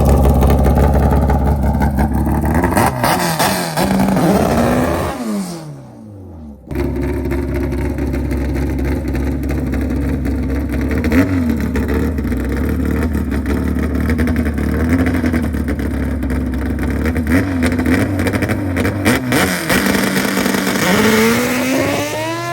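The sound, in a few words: drag racing cars accelerating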